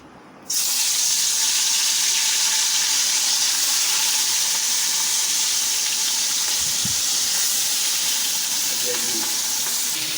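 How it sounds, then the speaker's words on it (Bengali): Fish pieces frying in hot oil in a wok, an intense hissing sizzle that starts abruptly and holds steady and loud, with a faint clink or two of a utensil. "মাছ ভাজা বসিয়ে দিয়েছি অলরেডি মাছ ভাজা হচ্ছে"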